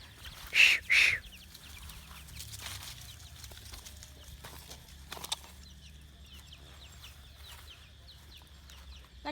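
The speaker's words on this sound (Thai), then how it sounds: "ไก่เนี่ย" Chickens at a Thai farm give two loud clucks close by near the start, then fainter scattered clucks and rustling follow over a low background rumble.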